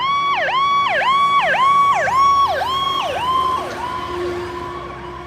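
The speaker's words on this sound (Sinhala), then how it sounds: "පාර ඇම්බියුලන්ස් එකක් එද්දී අපිට ඇහෙන සයිරන් එකේ ටෝන් එකට වැඩිය මේ ඇම්බියුලන්ස් එක අපි පහු කරගෙන යද්දී ඇහෙන සයිරන් ටෝන් එකේ පිච් එක අඩුයි" An ambulance siren wails in rapid, repeating up-and-down sweeps as it passes close by. Toward the end the tone drops lower and grows fainter as it moves away.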